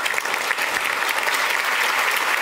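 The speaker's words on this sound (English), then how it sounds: "Can I have a big round of applause, please, for David Graeber?" An audience gives a big round of applause welcoming David Graeber to a talk on bullshit jobs, with dense, steady clapping filling the room throughout.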